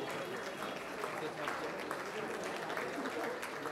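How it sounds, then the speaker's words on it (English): Steady, dense applause from a large audience at a celebrity peace-initiative event, continuous and full throughout without any pause. "A huge round of applause for Mr. Gul Kriplani."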